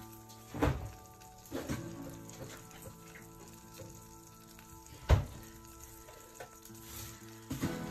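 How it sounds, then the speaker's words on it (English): Butter melts in a pan over gentle heat, giving a soft, steady sizzle and crackle with a few louder thunks from the pan or utensil, and no one speaks. "Just melting that butter down."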